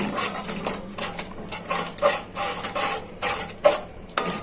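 Spice paste with sliced green chillies is stirred and sautéed in a pan for hilsa head with taro leaves, giving close, repeated scraping and sizzling bursts in an uneven rhythm.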